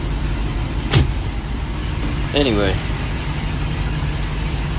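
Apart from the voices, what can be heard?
Sea Ray Sundancer boat engines starting and idling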